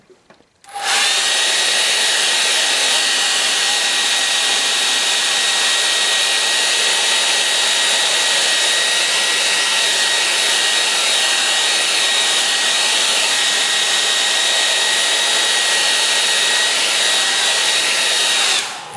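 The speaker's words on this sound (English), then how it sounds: "I might have to dry that with a hairdryer." A hair dryer blasts steadily at close range over a wet acrylic landscape painting of a cloud above a brook, a loud, constant whirring roar that switches on after a moment and runs unbroken for nearly twenty seconds.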